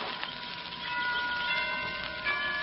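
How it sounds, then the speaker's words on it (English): Chimes ring out from a tower in a steady sustained wash of bell tones, fairly even in level and heard alone without any voices. "Those chimes from the tower, they're beautiful, aren't they?"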